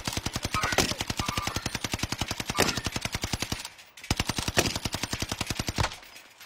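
Rapid automatic gunfire from the video game Warzone rattles in two long, evenly spaced bursts with a brief gap between them, loud and close, with no voices over it.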